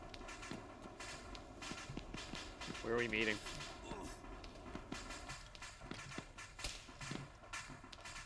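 Horse hooves clip-clop steadily in a video game, a run of close, even hoofbeats under a voice and a brief sung or shouted note partway through.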